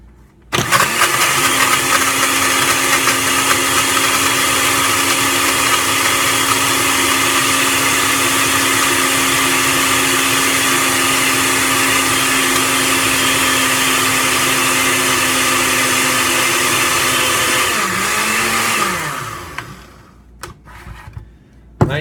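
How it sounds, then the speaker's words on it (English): A blender runs a thick breakfast smoothie made with nutrient-rich foods, giving a loud, steady motor whir for about eighteen seconds before winding down and stopping. No one speaks. "put it in the blender here."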